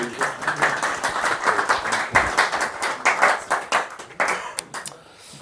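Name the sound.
audience applause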